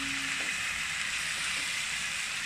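Soaked rice fries in a pot as it is stirred, a loud, continuous close sizzle with faint scraping underneath and no talk.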